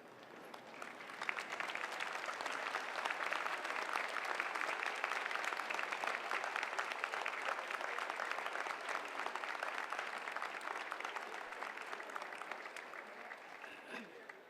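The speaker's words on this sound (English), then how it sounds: "join me in a round of applause" Sustained round of applause from a large graduation convocation audience, dense steady clapping lasting about fourteen seconds at moderate distance, tapering slightly near the end, with faint crowd murmur beneath.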